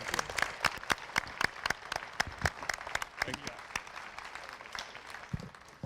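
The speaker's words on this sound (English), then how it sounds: "Let's give Sean a big round of applause" A business-idea competition audience gives a finalist a round of applause, scattered individual claps in a loose rhythm at moderate distance, gradually thinning toward the end.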